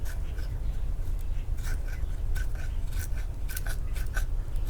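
A TOPS Mini Scandi folder knife shaves curls from wood, giving short, repeated scraping strokes over a steady low rumble, close and moderately loud.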